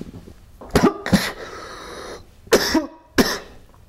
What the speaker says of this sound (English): did you hear the gurgling sound it made